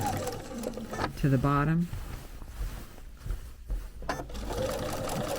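A sewing machine runs in short stitching bursts up and back down a single seam line on a quilt block, a close whirring hum between quieter handling sounds, with someone talking over and around it.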